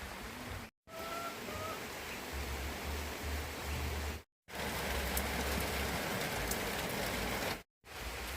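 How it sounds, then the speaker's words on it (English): Light drizzle falls steadily in a village garden on a rainy day, a soft continuous hiss of drops on surfaces, broken by a few brief gaps. "It's raining actually. It's drizzling."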